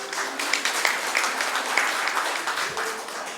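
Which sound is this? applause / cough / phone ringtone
applause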